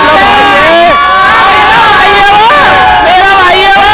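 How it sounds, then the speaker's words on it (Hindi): Crowd of Hindu pilgrims on a foot march from Delhi to Vrindavan, a dense babble of many voices close by with shouting rising and falling throughout. "अभी ये भीड़ पता नहीं कहाँ जाएगी"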